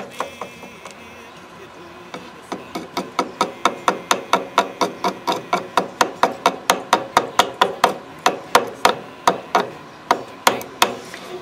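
A sharp axe carves thin curls from a piece of wood in quick, evenly spaced strikes, a steady run of crisp, close taps that starts after a quiet moment and keeps a fast, regular rhythm.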